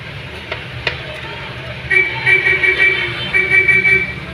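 Garlic, onion, tomato, ginger and chili hit a hot pan for coconut-milk adobo with yellowfin tuna, with a steady sizzle rising after about two seconds and a few stirring clinks, fairly close, with no talking.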